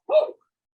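A French bulldog lets out a single short, sharp bark close by, followed by silence.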